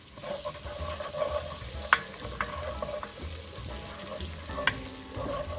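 Garlic frying in a pot as the base for loaded baked potato soup, a steady soft sizzle with occasional sharp clinks of a utensil stirring against the pot.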